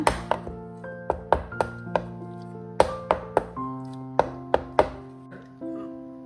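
A cake tin of carrot cake batter is tapped repeatedly against a hard surface to knock out air bubbles: about a dozen crisp, close thuds at an uneven but steady pace over light background music.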